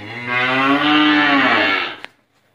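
A large cow on a cattle farm in Càng Long, Trà Vinh gives one long, loud, close moo that ends abruptly, followed by a short click and near silence.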